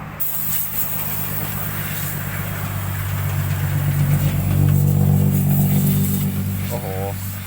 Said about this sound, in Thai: ท่อดังดีเหลือเกิน